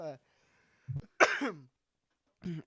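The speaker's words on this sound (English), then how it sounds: "So I apologize for all the coughing." A few short, harsh coughs and throat-clearing bursts, spaced apart with silence between them, close to the microphone.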